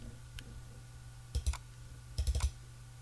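A computer mouse clicks close and faint: one soft click, then a quick pair, then a tight burst of three or four clicks after a pause.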